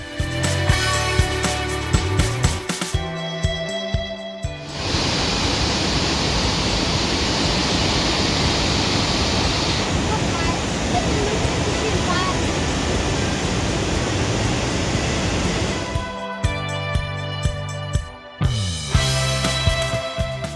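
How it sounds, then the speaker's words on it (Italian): A waterfall in Slovenia gives a dense, steady roar of falling water for about eleven seconds, loud and close. Music plays before and after it. "dal costo di 3 euro per andare ad ammirare questa cascata"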